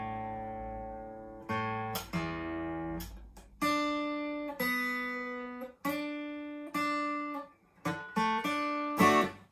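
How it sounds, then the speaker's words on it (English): Acoustic guitar being tuned before a singing lesson, a series of single plucked strings ringing out one after another with pauses between, each note sustaining and decaying, clear and close with no talking. "I'm just going to quickly tune up my guitar"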